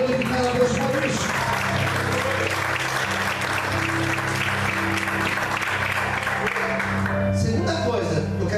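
Church congregation applauding in praise, a dense, sustained wash of many hands clapping at steady volume throughout, with low music or organ tones beneath and the clapping thinning out near the end.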